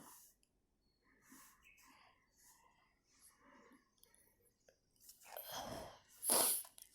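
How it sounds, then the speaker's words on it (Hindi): Soft breathing and faint murmurs lead into a single sharp sneeze near the end, close and abrupt against otherwise quiet sound. "मिसेस हॉल के कानों के पास छींकने की आवाज़ सुनाई दी।"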